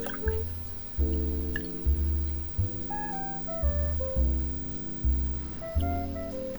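Milk pouring into a measuring container in a home kitchen, a steady liquid trickle with small drips over a low repeating hum and faint tonal sounds in the background.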